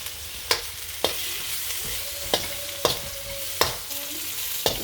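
Veg Manchurian being stirred in a frying pan: a soft steady sizzle with six or seven sharp spatula scrapes at roughly even intervals, close and fairly quiet, no voices.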